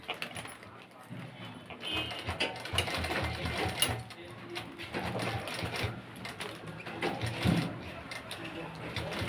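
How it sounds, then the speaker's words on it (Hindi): A sewing machine stitching a padded blouse, a close, continuous mechanical whir with rapid needle clatter and brief pauses, with a voice talking over it. "यहाँ पर हम सिलाई चला देते हैं"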